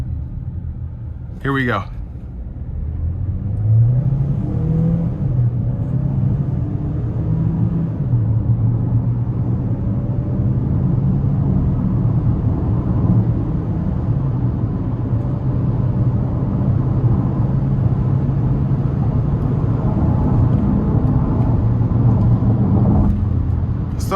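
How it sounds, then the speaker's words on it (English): A 2027 Chevrolet Equinox RS with front-wheel drive pulls onto the interstate, its engine and road noise swelling into a steady low drone from inside the cabin while someone talks briefly at the start. "I'm gonna try to give it a pull getting on the interstate here."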